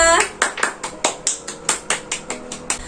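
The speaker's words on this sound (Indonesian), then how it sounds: "Tepuk tangan buat kita semua." A second-grade primary classroom claps hands in unison, about a dozen sharp, evenly spaced claps in a steady rhythm, close and loud.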